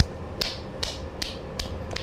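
A few sharp hand claps ring out one at a time, roughly evenly spaced, close and crisp against a quiet room.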